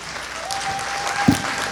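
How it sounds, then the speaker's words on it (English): Audience applause at a Chinmaya Somnath annual day gathering, a steady wash of many hands clapping throughout, with a brief tonal hum and one louder thump near the end. "A big round of applause"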